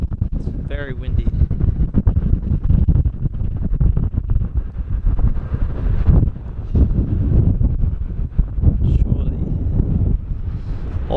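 Strong, gusting wind at Sydney Airport roars and buffets the microphone close and loud, with people talking intermittently underneath.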